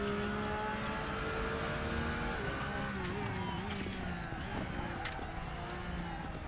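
A Porsche GT3 race car engine in the RaceRoom racing game drones and revs at a fairly low level, pitch wavering as the throttle is worked through a corner.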